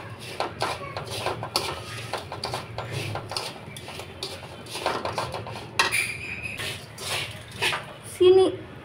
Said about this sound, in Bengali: এই তো নেড়ে ছেড়ে দিতে হবে, এভাবে নাড়তে হবে।